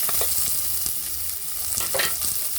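Garlic and onion sautéing together in hot oil in a pan, a steady crackling sizzle with occasional stirring scrapes, close and continuous without speech.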